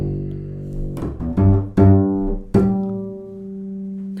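Bluegrass bassline on bass guitar closing with a harmonic: several plucked notes with strong attacks in a slow rhythm, then a final harmonic that rings out and floats away, no talking.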